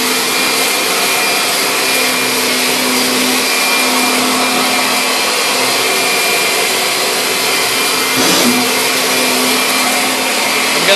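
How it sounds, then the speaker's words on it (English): Rainbow home cleaning system vacuum running in a house, a loud, steady whining roar that continues unbroken, with a brief pitch shift near the end and no talking. "I'm just gonna vacuum until I don't hear it picking up anything else."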